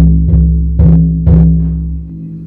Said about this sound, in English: When you hear the drumming sound, which is sounding like this.